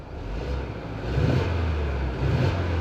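The revised 2.3-liter inline-4 engine of a 2025 Ford Explorer Active RWD runs at a steady low rumble, then rises slightly as it is revved, heard from inside the closed cabin without talking.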